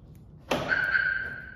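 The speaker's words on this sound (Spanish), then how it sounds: "cierran seguros" A car's Viper alarm arms as the doors lock: a soft mechanical thunk is followed by a steady electronic tone that holds to the end, close and fairly quiet.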